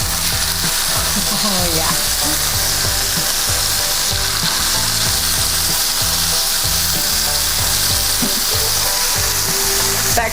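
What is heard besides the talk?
chicken thighs frying skin-side down in a pan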